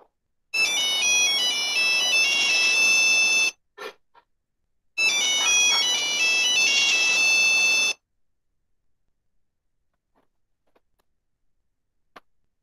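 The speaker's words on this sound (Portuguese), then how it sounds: "É o som do Nokia" A Nokia mobile phone ringtone plays its melodic tune loud and close, in two bursts of about three seconds each, followed by near silence.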